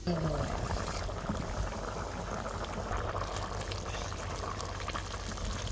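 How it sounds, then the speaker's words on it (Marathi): A pot of rice for chicken pulao bubbles and boils vigorously in a continuous, dense gurgling hiss, close and steady throughout. "आता ही भात शिजा लागला"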